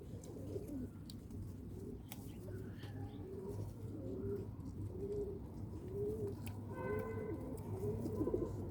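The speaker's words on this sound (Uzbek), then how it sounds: "Yaxshi kaptar." Pigeons coo softly and repeatedly in low, rolling calls, with a few chirps and brief rustles over a steady low hum, fairly close but quiet.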